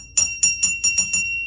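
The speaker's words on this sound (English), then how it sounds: "it's going to ring the bell for this one." A small bell is rung rapidly six times, bright ringing strikes close by with a sustained metallic tone between them.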